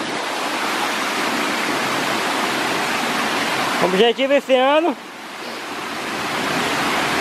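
A waterfall in Serra da Ponte Nova, Palmeiras de Goiás, pours with a steady, dense roar, while someone speaks briefly partway through.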